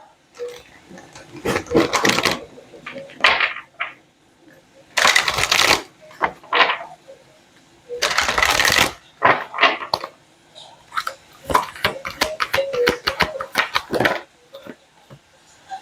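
Cards being shuffled close up in repeated riffling bursts, crisp and loud, with brief pauses between passes.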